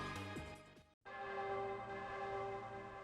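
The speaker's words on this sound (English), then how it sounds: "The bell rings for a fifth and final time." A bell tolls in the Ys II video game, a loud chiming peal ringing out over a sustained musical tone. The sound cuts briefly to silence and then resumes with a long resonant ring that slowly fades.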